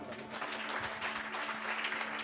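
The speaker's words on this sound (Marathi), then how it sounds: "जरा जोरदार टाळ्या" A church congregation claps during a sermon, a brief, moderately loud burst of applause that holds steady over a low background hum.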